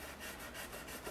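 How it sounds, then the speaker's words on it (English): A damp cloth is wiped down the corners of a wooden freight crate box, making a faint, steady rubbing and scraping for about a second with no voices. "So I just take the damp cloth and go down all the corners."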